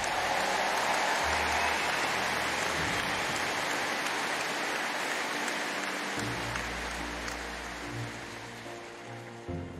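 Applause from a large crowd at a farewell ceremony for two speed skaters, a dense rain-like roar of clapping that holds steady and slowly fades toward the end, with low rumbles underneath.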